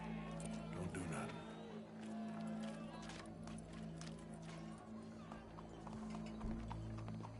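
Horse hooves clip-clop steadily through a busy Red Dead Redemption 2 game scene, close and continuous under a low engine-like drone and crowd murmur, with a whinny and voices mixed in.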